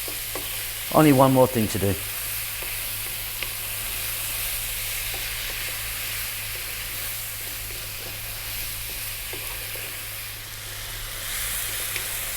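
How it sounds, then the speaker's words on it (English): Chopped tomato frying over high heat while being stirred, a steady close sizzle and hiss running throughout, with a brief burst of voice near the start and someone speaking over it. "In goes the chopped tomato. 3 minutes, high heat, stirring all the time."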